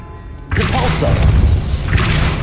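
The Depulso spell cast in Hogwarts Legacy, a sudden heavy thump and booming whoosh bursting in after a brief quiet stretch, followed by rumbling impact noise.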